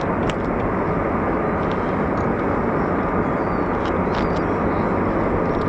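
An F-35B stealth fighter, the short takeoff and vertical landing variant, flies at an RAF air base. Its engine makes a loud, steady jet roar that holds evenly throughout.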